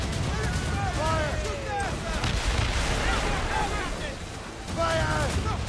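Ship cannons booming in a naval battle in Assassin's Creed Rogue, dense and continuous rumbling blasts amid wind and sea noise, with shouted voices over the barrage.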